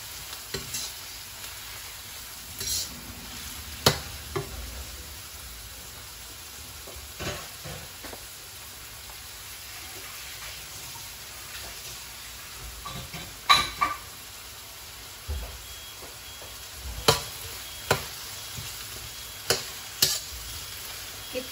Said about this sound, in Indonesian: Kita goreng bawang merahnya, atau boleh bawang bombay atau bawang yang kecil-kecil, silahkan.